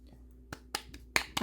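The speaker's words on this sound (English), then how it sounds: "I'm just tapping water out" A washed doll is tapped to knock water out of it, giving about five sharp, close taps at irregular intervals against a quiet background with faint breathy sounds.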